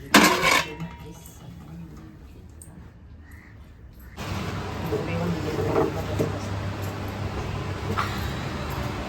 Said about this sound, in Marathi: तर चला आता वाजले 1:30 वाजायला आले तर भांडी घासून घेऊया